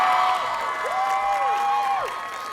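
A crowd at a high school graduation ceremony claps and cheers, with rising whoops and whistles riding over the dense applause for a short, lively stretch.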